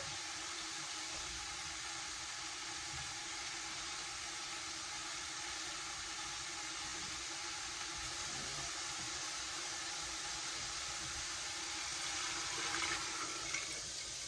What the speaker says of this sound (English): and then I'm going to fill it up with some water.